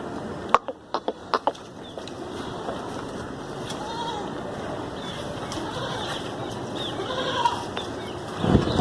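A pregnant goat, about three to three and a half months along, bleats faintly in the background of a busy outdoor livestock setting, after a few sharp clicks near the start.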